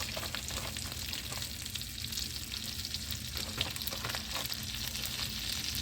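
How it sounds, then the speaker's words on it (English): Chicken tenders sizzle and crackle steadily in hot frying oil, a dense continuous hiss with scattered pops running the whole time, no voices. "cook these good old chicken tenders. Yeah, my sizzle kind of went down a little bit, didn't it?"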